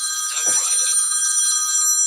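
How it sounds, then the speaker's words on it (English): A telephone rings with a bright, continuous electronic trill that holds steady and fairly loud, with a brief low thump early on. "Oh, I'm getting a phone call."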